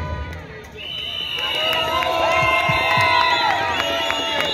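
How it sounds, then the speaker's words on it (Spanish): Crowd noise at a murga carnival celebration in Mataderos, a loud mass of cheering, whoops and shouts with whistle-like tones and some claps, close and continuous throughout. "Fuerte, pero bien fuerte y cálido ese aplauso para el Centro Murga Los Estrellados Porteños"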